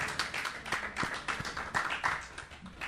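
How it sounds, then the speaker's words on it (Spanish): A church congregation claps in a quick, uneven rhythm, the separate hand strikes distinct but fairly quiet, with no talk over them. "Eso merece un aplauso."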